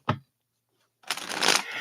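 Tarot cards being shuffled by hand: a brief riffle, a short pause, then a longer, louder run of rustling shuffles that keeps going to the end, close by and with no voice.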